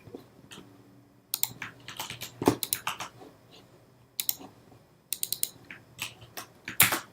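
Keys tapped on a computer keyboard while entering a file name, irregular clicky bursts with short pauses between runs of strokes, close and fairly quiet with no talking.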